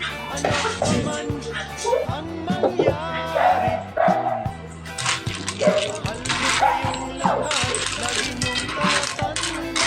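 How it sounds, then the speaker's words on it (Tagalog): A dog yips and barks repeatedly nearby, mixed with clinking kitchen sounds and a person talking while cooking snails in coconut milk. "Ingay yung aso."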